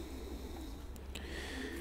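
Racing pigeon cooing softly in a loft, a low, steady murmur that carries on throughout under a faint, constant background hum.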